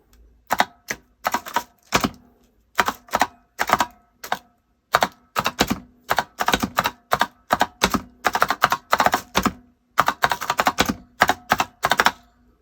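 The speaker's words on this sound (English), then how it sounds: "The keys on the Redragon are rather noisy." Steady bursts of loud, clicky mechanical keyboard typing on a Redragon K605 with Otemu blue switches, close up, keys clattering in quick runs separated by brief pauses.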